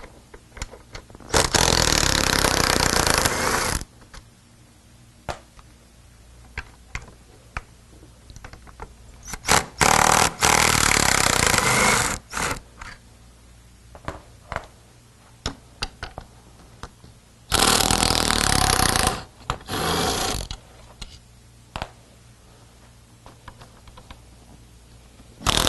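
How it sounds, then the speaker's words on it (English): A 10mm socket on a power tool spins out four bolts during an F150 install, in four loud, harsh bursts of a few seconds each, separated by quieter stretches of small clanks and handling noise. "These are going to need a 10mm socket. We'll go around each one, pull those off."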